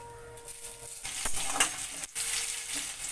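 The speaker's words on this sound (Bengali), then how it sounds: "পেঁয়াজটা আমার একটু হালকা লাল করে ভাজা হবে" Onion and radhuni spice sizzling in hot mustard oil, a steady close frying hiss with stirring scrapes and short dips, no talk.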